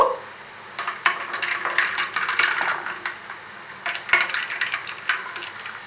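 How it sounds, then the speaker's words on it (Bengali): A spoon stirs lemon soda with lemon juice and sugar in a glass, giving close, uneven clinks and swishing scrapes in short bursts with faint fizz between. "একটা স্পুন নিয়ে এবার এটাকে আমরা একটু মিশিয়ে নেব"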